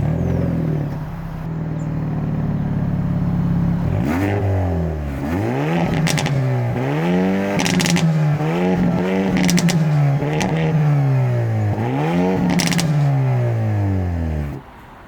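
Hyundai i30 Sedan N engine revving hard again and again, with loud, close exhaust sweeps that climb and fall in a repeated rhythm, alone with no voices.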